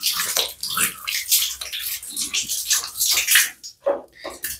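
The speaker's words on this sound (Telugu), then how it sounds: "అదే ఇప్పుడు నేను సాఫ్ట్ వాటర్తో క్లీన్ చేసి చూపిస్తాను మీకు" Tap water splashes and gushes in bursts as hands are washed under softened water in a bathroom, close and loud with uneven surges.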